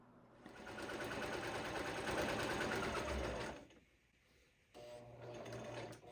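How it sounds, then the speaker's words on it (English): A sewing machine sews a pillow cover with a fast, steady mechanical whir that briefly slows to near silence, then resumes running at a moderate, close distance. "I put 2 pins together to mark where I want to stop sewing so I don't accidentally sew all the way around"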